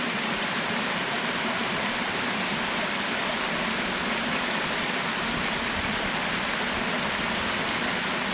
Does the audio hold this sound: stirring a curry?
no